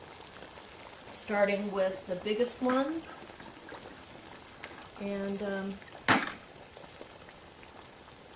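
Whole beets drop into a pot of boiling water, with one sharp splash standing out over a soft bubbling bed while a person talks intermittently nearby.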